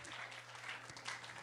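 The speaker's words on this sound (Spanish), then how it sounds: "Dale un aplauso al Señor" A church congregation gives a short burst of applause, brief and fairly faint, the massed clapping rising and falling over a low background.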